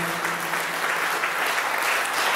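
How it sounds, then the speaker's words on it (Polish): Dense, steady applause from an audience at a Polish youth poetry recitation contest in Malbork, an even wash of many hands clapping together with no talking. "jeszcze raz ogromne brawa dla tych młodych wykonawców"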